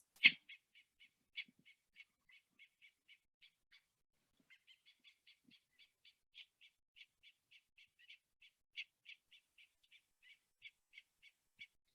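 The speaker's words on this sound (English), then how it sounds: "here I have a quick little sound for you guys to listen to in case you come across some Io" Hawaiian hawk (Io) calls played back as a recording: a long series of short, sharp, evenly spaced cries repeating steadily and fairly close, clear against a quiet background with no talking.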